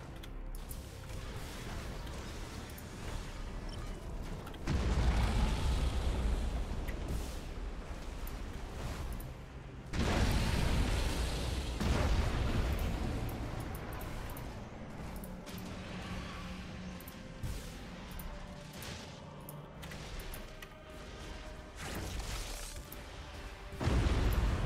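Fleet assaults in the space strategy game Battlefleet Gothic Armada II set off rumbling explosions, dense booming bursts that swell every few seconds over a continuous roar of battle noise.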